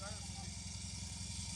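An off-road trophy-event vehicle engine running without lubrication holds a steady, droning idle with a low hum, while people shout over it.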